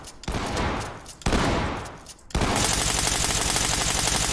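Rapid bursts of automatic gunfire ring out in the tactical shooter Ready or Not, with two short loud volleys followed by a sustained, dense stream of shots at close range.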